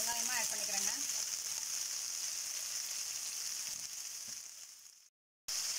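Onion sautéing in hot oil for a Chettinad-style mutton curry, a steady loud sizzle with faint voice at the start, tapering slightly before cutting to silence near the end.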